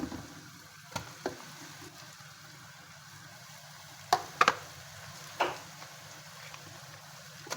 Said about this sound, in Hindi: लहसुन अदरक ज़ीरे के साथ जब हम कीमे को फ्राई करते हैं